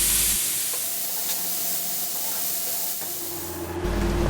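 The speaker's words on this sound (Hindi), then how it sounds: "कुकर में से गैस को अच्छे तरीके से खारिज कर" Steam hisses steadily out of a pressure cooker as its gas is released after cooking mutton karahi, a continuous close broadband rush lasting several seconds with no voices.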